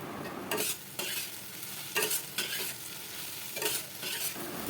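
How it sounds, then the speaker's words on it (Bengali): Chopped onions frying in hot mustard oil for birista, a bright steady sizzle broken by repeated stirring bursts and scrapes of a spatula in the pan, close and moderately loud with no talking. "সরষের তেল গরম হয়ে গেলে এবারে পেঁয়াজ কুচি দিয়ে ভালো করে লাল লাল করে মুচমুচা করে ভেজে নিতে হবে বেরেস্তার জন্য।"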